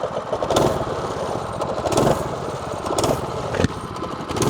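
A Coleman CT200 mini bike's small engine runs close by with a buzzing, uneven drone that swells and dips as the throttle rises and falls, steady throughout.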